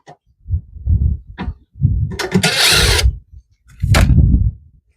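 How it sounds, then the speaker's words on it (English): A power screwdriver removes screws from a Samsung dryer motor, with low whirring bursts, one longer burst with a bright high whine, and several short separate runs close by, with no talking. "to remove the motor, we're going to start right here by taking this screw and this screw off"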